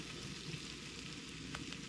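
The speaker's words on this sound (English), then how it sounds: "Listen to that sizzle." Potatoes fry in a generous amount of oil in a pan, giving a steady, close, continuous sizzle with no voices.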